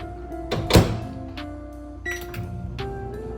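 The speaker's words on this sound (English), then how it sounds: "I'm gonna put this in the microwave for about a minute" Microwave oven handling in a home kitchen, a sharp thunk of the door closing and a few beeps over a steady low hum as chocolate chips on saltine crackers start heating.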